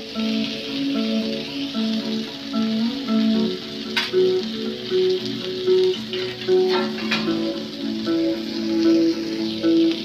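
Surmai fish fries in a covered pan, a steady close sizzle and crackle that runs throughout, with a few sharp spatters and a low musical tone playing underneath.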